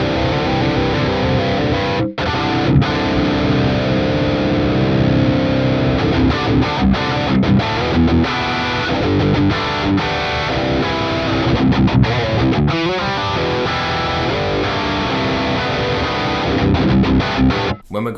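High-gain, heavily distorted metal electric guitar with a noise gate, played continuously for about eighteen seconds in loud chugging riffs with brief gated stops between phrases, no voices.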